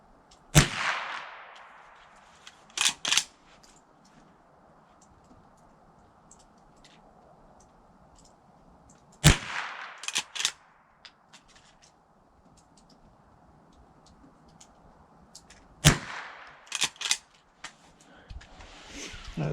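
Three sharp, loud reports from a Henry .22 rifle at an outdoor shooting range in snowy conditions, spaced several seconds apart, each followed by a short cluster of quieter clicks and handling noises, with faint background hiss between them.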